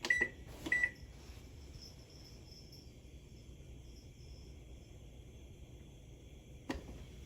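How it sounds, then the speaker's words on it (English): A kitchen timer is set for boiling potatoes, giving a few quick, high electronic beeps at the start, then a faint steady hum in a quiet kitchen and one soft click near the end. "I'm setting my timer for 40 minutes"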